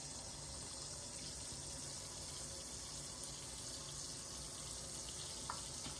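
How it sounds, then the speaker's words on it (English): Hot tap water runs steadily into a container being filled to the top for cooking ribs, a continuous close rushing gush with no talk. "Then I'm going to fill it up with hot water."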